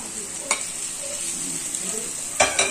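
Sausage frying in a pan, a steady bright sizzle with a few short scraping stirs near the start and end.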